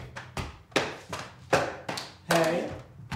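Bare hands clap out a steady rhythm in a music lesson, about eight sharp, close claps at an even pace, with a brief voice heard near the end.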